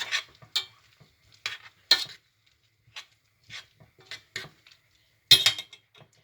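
Frozen garlic stirred in a pan: irregular close scrapes and light clinks of a utensil against the metal, with faint sizzling between strokes.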